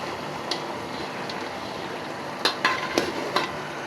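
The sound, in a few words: stirring ground masala and chopped onion in a pan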